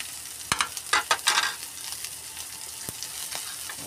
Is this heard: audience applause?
no